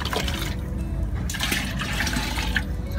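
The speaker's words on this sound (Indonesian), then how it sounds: "Masukkan airnya ke sini." Clean water poured from a container into a hydroponic reservoir, a steady continuous splashing and gurgling stream close by, running alone for the full three seconds.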